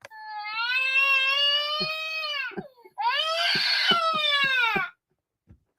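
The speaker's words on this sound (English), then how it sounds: "I like that like piercing shriek of that baby." A piercing baby shriek used as a spooky Halloween sound effect: two long, loud, wavering wails, each lasting about two seconds, separated by a short gap with a few sobbing catches, then silence.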